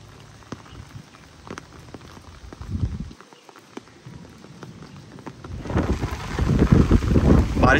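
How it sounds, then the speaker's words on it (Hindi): Heavy rain pours down on a village as strong wind picks up, a steady wash of falling water that surges louder and denser toward the end, with no talking. "बारिश तेज़ हो चुकी है क्योंकि हवा जो है वो काफ़ी तेज़ चलने लग गई है"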